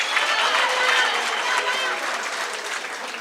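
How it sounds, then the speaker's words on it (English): Applause for graduates at a Gauteng graduation ceremony, a dense, sustained roar of clapping from a large crowd, loud and even throughout. "Let's give them another round of applause."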